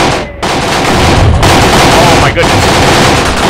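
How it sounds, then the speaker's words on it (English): Sustained heavy gunfire from troops in the Graviteam Tactics war game roars loud and continuous, dense bursts layered throughout, with a brief exclamation spoken over it. "Our men are still firing away,"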